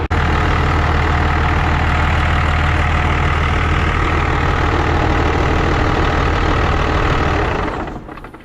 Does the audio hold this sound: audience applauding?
no